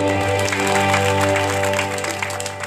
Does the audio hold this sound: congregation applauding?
yes